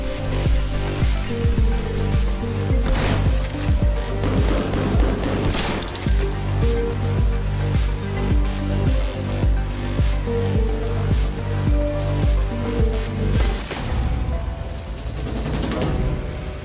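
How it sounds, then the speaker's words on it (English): Dense, driving music from the PC game Shadowrun: Hong Kong with rapid bursts of gunfire layered through it, loud and continuous with sharp percussive cracks throughout. "I want to hear a remix with the gunshots better placed in the song"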